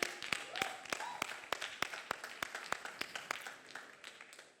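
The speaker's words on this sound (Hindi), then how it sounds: "गाइस तालियां रुकनी नहीं चाहिए फॉर पॉल," On the location shoot of the Zee TV dance reality show DID Battle of Champions, an audience keeps up steady, evenly paced clapping that sounds faint and somewhat distant, with a little talk underneath.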